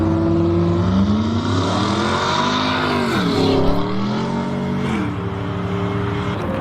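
A Dodge Ram's cammed Hemi V8 with shorty headers and a Comp cam revs loudly and close by. The deep, lumpy idle climbs and falls through several throttle blips, sounding rough and aggressive.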